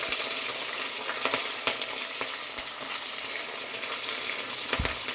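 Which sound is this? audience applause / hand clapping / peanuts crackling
peanuts crackling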